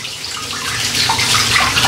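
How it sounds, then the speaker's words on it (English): A shaving brush is rinsed under a running cold tap, giving a steady, close rush of splashing water that continues without a break and with no voices. "Running it under the cold water."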